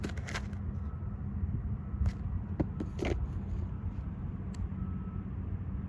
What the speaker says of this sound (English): You can listen to the sounds of nature as well as traffic and construction as I do this.